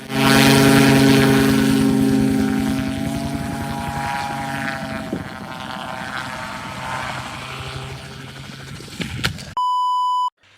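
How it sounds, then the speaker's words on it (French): A small propeller engine of a homemade airplane roars loudly on takeoff, then its pitch and power drop and fluctuate, ending in a sudden steady electronic beep. "il essaie son démarrage pour parvenir à décoller"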